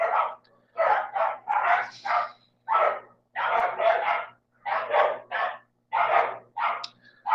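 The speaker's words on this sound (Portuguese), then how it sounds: "tem uns cachorros aqui agora, inventaram de latir" Several dogs bark repeatedly in quick bursts, fairly close and loud, with short pauses between clusters of barks and no talking.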